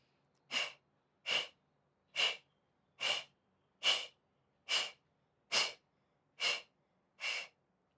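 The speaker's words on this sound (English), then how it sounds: "Think of it like quick, light breaths, not deep, not forced." Nine quick, light breaths, part of a gentle breathing exercise, come as short, evenly spaced puffs of air close to the microphone with near silence between them.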